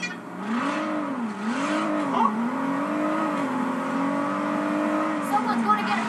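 In the Saints Row video game, the fastest car roars along at speed, its engine note climbing and dipping in repeated revving swells, loud and continuous with brief tyre and impact noises.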